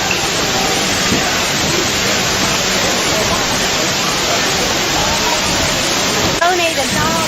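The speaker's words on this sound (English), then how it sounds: "We're underneath the waterfall right now." A waterfall roars steadily beneath a bridge, loud and close. The dense, unbroken rush fills the whole stretch, with a brief shift in texture near the end.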